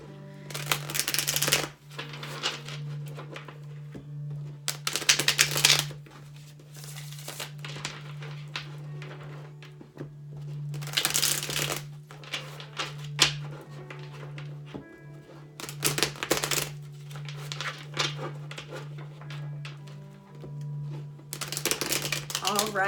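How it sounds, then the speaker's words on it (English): Oracle cards being shuffled in bursts of rapid riffling and flicking, several separate rounds spread over the stretch with quiet gaps and soft handling noises between, under a steady low hum. "I'm going to do a couple shuffles though in between."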